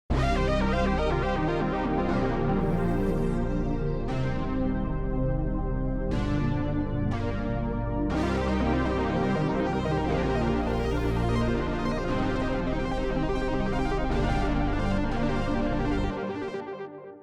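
Continuous synthesized music with rich, sustained pitched tones and chord changes every couple of seconds, playing loudly without voices and ending abruptly.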